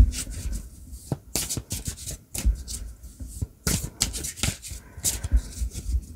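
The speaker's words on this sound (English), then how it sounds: "Cards don't want to shuffle today." Cards are shuffled and riffled in uneven bursts of quick flutters and soft slaps, close and fairly loud, with no talking.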